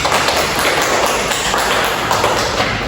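A classroom of students breaks into steady, dense applause for classmates' correct answers, the clapping continuous and close for about three seconds.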